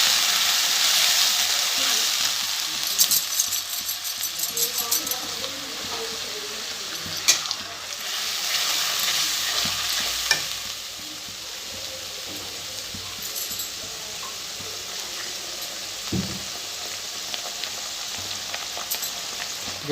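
Tomato puree frying for a jackfruit curry made without onion or garlic, a steady broad sizzle with occasional stirring scrapes and clinks, fairly loud and close, with no voices.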